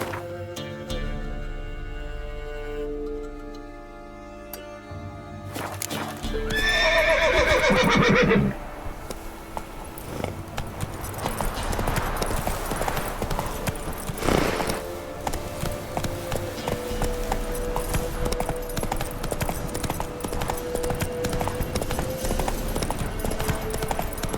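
A horse in The Witcher 3 video game neighs loudly once, then hooves clip-clop in a steady galloping rhythm, close and continuous.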